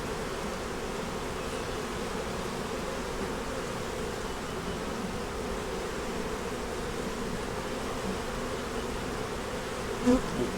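Honey bees swarm thickly around a productive hive, making a steady, dense droning buzz that carries on without a break, close and even in level, with one brief knock near the end.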